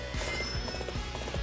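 Galloping horse hooves in the video game Dynasty Warriors 8, a steady rapid clip-clop rhythm pounding close and loud throughout, with a brief whinny-like tone and no talking.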